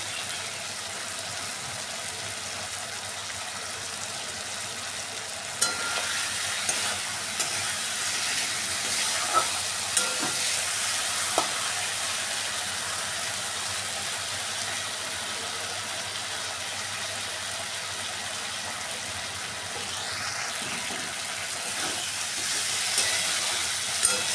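Coriander, cumin and turmeric powders with salt fry in oil for a Bengali fish curry, giving a continuous sizzle. Occasional light scrapes and taps of stirring sound close by, with no voices.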